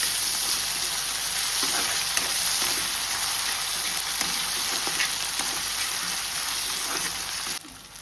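Finely chopped tomato fries in a pan for Goan-style crab sukha, giving a loud, even sizzle with light stirring clicks that continues steadily before dropping off at the end.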